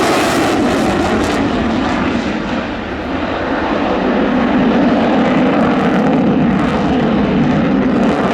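A MiG-29 fighter jet flying at the RAF 100 Cosford Air Show, giving a loud, continuous broadband engine roar that holds steady for the whole stretch with only a brief dip, no voices over it.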